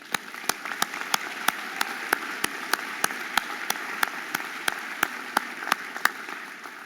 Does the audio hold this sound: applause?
yes